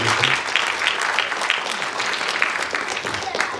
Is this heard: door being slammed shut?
no